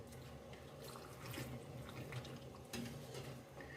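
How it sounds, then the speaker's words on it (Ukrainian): Quiet, steady pouring of boiling honey marinade into jars of sweet peppers, with a soft gurgle and trickle, low in level and fairly close. "Наливаємо кипячий маринад, який, який кипить і бурлить"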